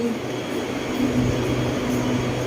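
An electric train on the Bangkok Red Line pulls into Rangsit station with a steady, close rumble and faint tonal hum from the carriage, continuous throughout with no voices.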